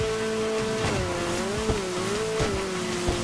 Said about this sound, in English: I'm in a Ferrari.